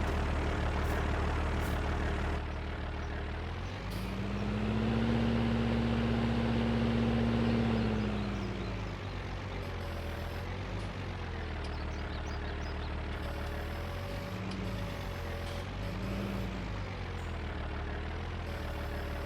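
A Farming Simulator 19 tractor engine idles with a steady low rumble throughout, its pitch rising briefly as the revs climb and then settling back to an even, close idle.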